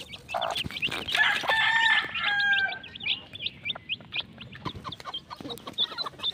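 Pet chicks being fed in a small home coop chirp and peep in quick, high bursts. A louder crowing call rises over them early on, then the peeping goes on, close by and without speech.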